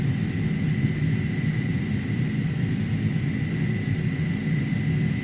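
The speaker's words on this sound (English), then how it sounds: "I think the A300 sounds are pretty darn good." Airbus A300 airliner cabin in a flight simulator game, heard from the window seat: a steady, loud low engine rumble with a faint constant tonal whine above it, continuous and even throughout.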